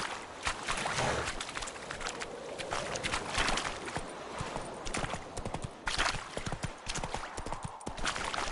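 Horse hooves clip-clopping in a steady galloping rhythm during a ride in The Witcher 3, loud and continuous with dense clattering and some wind-like noise.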